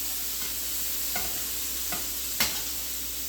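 Chicken pieces for chicken marsala frying over medium-high heat after being turned, a steady close sizzle with a few soft knocks and scrapes, the last one slightly louder.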